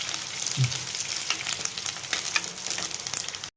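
Onions fry in a pan with a continuous, fairly loud crackling sizzle and light clicks of stirring, close by and with nobody speaking.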